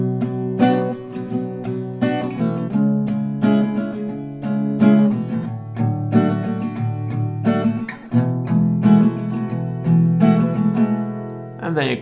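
Acoustic guitar playing the instrumental section of a song, ringing picked chords in a steady flowing pattern, close and clear, alone for twelve seconds.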